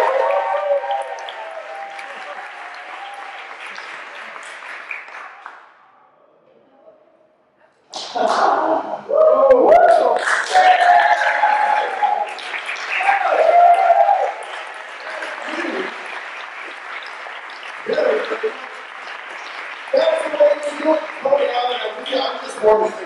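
Audience applause and cheering at a Brooklyn Historical Society panel discussion on Brooklyn's nouveau sideshow; a steady wash of clapping, a short near-silent pause, then a louder, fuller burst with whoops and voices that continues to the end.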